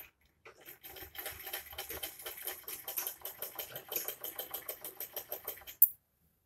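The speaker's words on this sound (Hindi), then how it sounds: "पहले यहाँ से सिलाई लगा के चलिए आगे की साइड को" A sewing machine stitching a salwar, heard as a close, fast, even run of mechanical clattering that starts, keeps a steady rhythm for several seconds, then stops with a final clunk.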